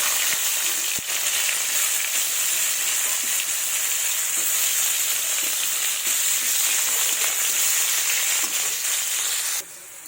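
Carrot pieces coated with salt and turmeric fry in hot oil, giving a steady, close, continuous sizzle and hiss with faint stirring. No one speaks.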